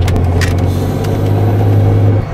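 A 1998 Ford Windstar van drives along with a steady low engine drone and road rumble, loud and close from inside the cabin, with no one talking.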